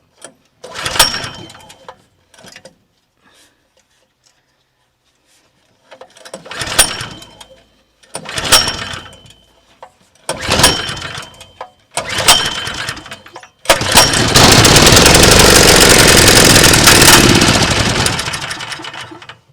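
A small gasoline engine on a Predator water pump is yanked several times in short bursts, then catches and runs loudly and roughly for several seconds.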